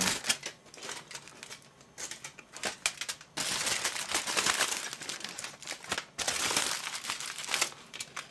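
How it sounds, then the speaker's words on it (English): Aluminium foil crinkled and wrapped around a hummingbird feeder, close and fairly loud, coming in bursts of crisp crackling and rustling separated by short quieter pauses. "I just kind of just move the foil all around it"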